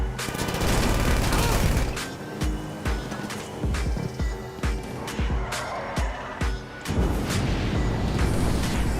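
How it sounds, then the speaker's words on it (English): Gunfire in GTA Online during a car chase, with loud rapid shots and booming hits in a staccato run, then heavier sustained blasts near the end. "Okay, I gotta shoot out the driver on this guy."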